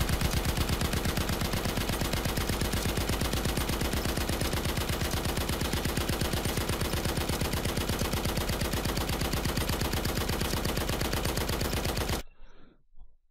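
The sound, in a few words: machine gun firing effect in Unreal Engine 4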